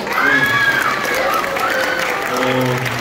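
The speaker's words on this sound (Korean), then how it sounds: "우리 박수 한번 쳐볼까요?" Applause from the audience at a school's 70th anniversary ceremony for a school for the blind, loud sustained clapping with some voices and tonal sounds blending in underneath.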